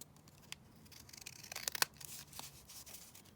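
Scissors trimming paper up close, several quiet snips and rustles building to a couple of crisp cuts midway, faint and with no talk.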